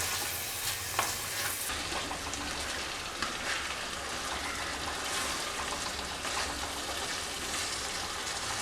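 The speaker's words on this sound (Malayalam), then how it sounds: "ഇനി ഇതെല്ലാം നന്നായിട്ട് മിക്സ് ചെയ്ത് കൊടുക്കാം" A potato and prawn stir-fry with spices hisses softly in a pan while being mixed, with a few light utensil clicks over a steady close sizzle.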